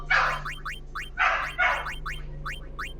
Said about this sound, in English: That dog sounds happy.